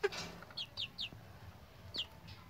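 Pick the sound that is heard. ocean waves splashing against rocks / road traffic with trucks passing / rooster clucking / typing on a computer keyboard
rooster clucking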